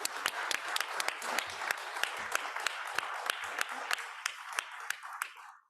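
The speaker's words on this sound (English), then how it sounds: "Please give them a round of applause" An audience at a seed resilience side event applauds a panel with a full, steady round of clapping that holds for several seconds, then thins out and fades at the end.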